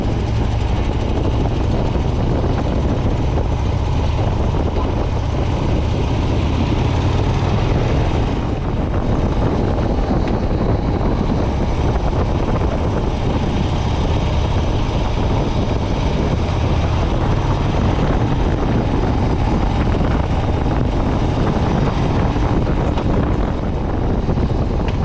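A custom motorcycle cruising along a road in Ardèche, its steady low engine drone continuous throughout, heavily mixed with loud wind rush over the microphone and no talking.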